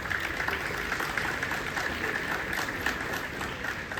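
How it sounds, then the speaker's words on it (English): An audience claps for participants and teachers at a ceremony with an Air Commodore as chief guest, producing loud, continuous, close applause with a dense, even texture from start to finish. "big applause to all the participants and the teachers"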